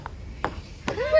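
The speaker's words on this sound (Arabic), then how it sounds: "جيت نلعب انا واسماعيل بين بون" Table tennis ball struck back and forth during a casual game at a Moroccan wedding, three sharp clicks roughly half a second apart, with a high whistling tone rising at the end and low background noise.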